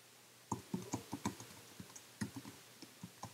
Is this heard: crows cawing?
no